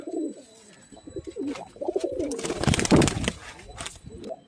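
A pair of pigeons let out together coos in soft, throaty, repeated calls close by, with some rustling and a faint voice in the background.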